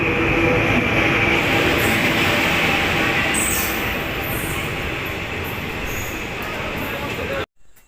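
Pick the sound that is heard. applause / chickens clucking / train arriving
train arriving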